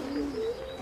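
A pigeon coos softly in a low, rolling murmur, faint and alone, near a nest where it is still feeding its squabs.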